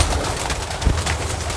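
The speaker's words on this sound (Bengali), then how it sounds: "এখানে কোকা কবুতর আছে, গিরিবাজ আছে" Koka and Giribaz pigeons in a loft give soft, low cooing over a steady murmur of birds close by, with one brief thicker coo near the middle.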